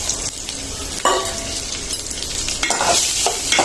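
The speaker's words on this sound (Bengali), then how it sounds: "আমি পেঁয়াজটা ভাজা করে নিব।" Onions and bay leaves sizzle in hot oil in a pot, with a steady close frying hiss, a spoon stirring and occasional scrapes and clinks against the metal.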